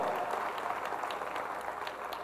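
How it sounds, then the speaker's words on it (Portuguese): A church congregation applauds in a dense, continuous wash of clapping that stays at an even level throughout. "Aplauda o nome do Senhor."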